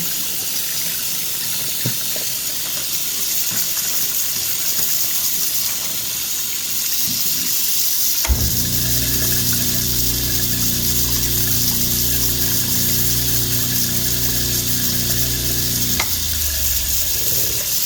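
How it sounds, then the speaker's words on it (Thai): Tap water runs steadily into a kitchen sink for several seconds, then a garbage disposal switches on and grinds with a loud, steady hum under the flowing water before it stops near the end. "เวลาใช้ ที่ปั่นเศษขยะแบบนี้ ให้น้ำมันไหลวินตลอดเวลานะคะ มันจะช่วยให้มันปั่นได้ง่ายขึ้น"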